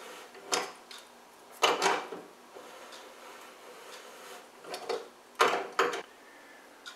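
Adjustable pliers tighten a lock nut on a kitchen sink basket strainer held by a strainer wrench, producing several short metallic ratcheting clicks and scrapes in bursts, close and without talk.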